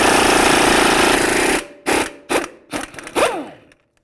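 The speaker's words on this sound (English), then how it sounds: "using a 32mm socket to remove our axle nut" A ratchet with a 32mm socket works loose the rear axle nut on a Dodge Journey, starting with a long loud harsh burst, then four short sharp clattering bursts in quick succession, close up.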